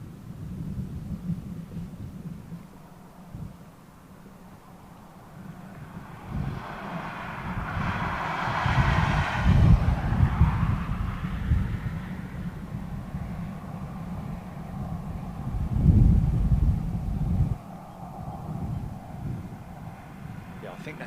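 A Boeing KC-135 aircraft at RAF Fairford rumbles with a broad, distant engine roar that slowly swells and fades, with people talking over the sound.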